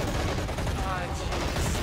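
Rapid toy-soldier gunfire rattles through a large Army Men battle, dense overlapping bursts of shots mixed with chaotic combat noise, loud and continuous throughout.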